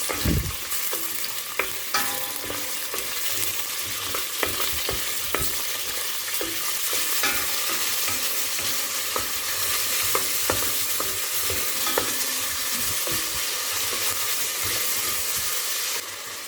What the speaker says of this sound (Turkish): Kavuruyoruz.